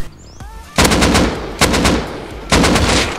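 Automatic gunfire in the survival game Rust, three loud rapid bursts of shots separated by short pauses, close and punchy, with a faint tone before the first burst.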